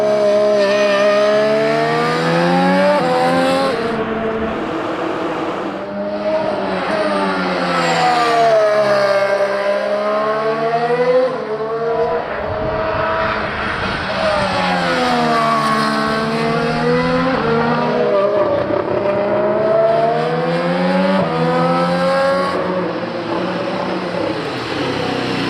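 Williams Formula 1 race car on track, its engine note sweeping up and down through repeated gear changes over about 25 seconds, loud and steady with no talking.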